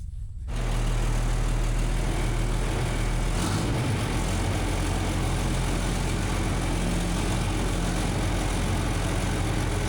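An old farm grader's heavy diesel engine runs with no muffler at an auction, a loud, raw, steady low rumble that starts abruptly and holds at constant idle.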